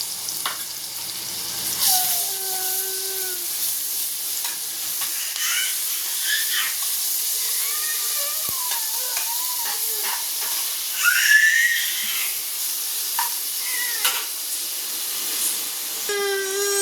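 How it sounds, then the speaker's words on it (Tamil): Ginger garlic paste and curry leaves sauté in a pan for a Madurai-style mutton salna, a steady loud sizzle and hiss running throughout, with scattered clinks and scraping of a spoon. "நல்லா வதக்கிக்குங்க இஞ்சி பூண்டோடைய பச்சை வாசனை போகிற அளவுக்கு கொஞ்சம் நல்லா வதக்கிக்கணும்"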